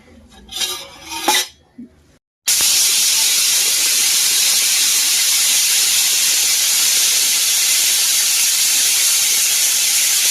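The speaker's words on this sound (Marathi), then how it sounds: "बघा, कुकरच्या 4 शिट्ट्या झालेल्या आहेत आपल्या।" After a few brief, muffled kitchen sounds, a pressure cooker suddenly lets out a loud, sustained steam whistle that hisses on without a break, while cooking potatoes for pav bhaji.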